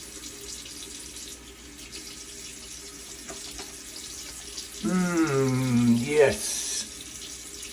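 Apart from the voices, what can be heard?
water running from tap while wetting face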